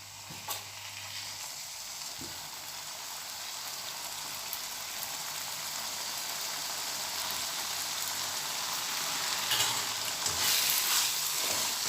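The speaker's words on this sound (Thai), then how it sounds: "ใส่หมูสับลงไป" Minced pork sizzles steadily in a tamarind chili paste made with shrimp paste, a dense, even frying hiss with faint stirring that builds slightly louder toward the end, with no talking.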